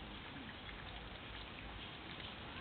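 Steady rain falls outdoors as a continuous dense hiss with no breaks, fairly loud and even, with no voices.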